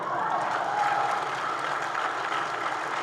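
A Comic Con panel audience applauds a guest in a steady, dense roar of many hands clapping, sustained and even for the whole stretch with no pauses.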